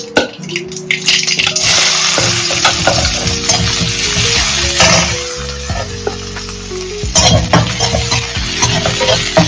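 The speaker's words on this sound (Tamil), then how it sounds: "கடுகு பொரிஞ்சுதான் ஒரு பெரிய வெங்காயம், பூண்டு, கருவேப்பிலை அது மட்டும் போட்டு நல்லா வதக்கி வச்சு" Onion, garlic and curry leaves with popped mustard seeds sizzle loudly in hot oil as a spatula stirs and scrapes the pan, giving a continuous close frying hiss broken by metallic scraping strokes.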